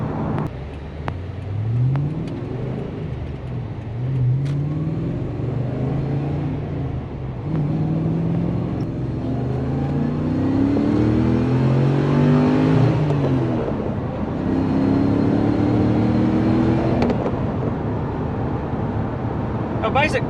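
A 2014 Toyota Hilux 2WD with a swapped-in Chevrolet LS2 V8 engine climbs a hill under steady throttle, its engine droning and rising gradually through the gears, with a loud, smooth, continuous rumble from inside the cab.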